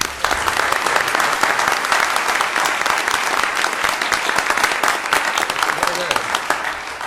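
An audience at a county board of supervisors meeting gives a loud, sustained round of applause, with dense, even clapping that fills the whole stretch.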